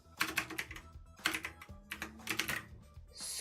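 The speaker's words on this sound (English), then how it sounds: "Oh, wow. Typing is hard." Rapid clattering keystrokes on a computer keyboard come in bursts with brief pauses, close and fairly quiet, with no talking.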